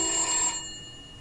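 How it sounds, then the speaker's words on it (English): A brief electronic phone ringtone with bright tonal notes, cutting off after about half a second and leaving faint room noise. "That's my new ringtone."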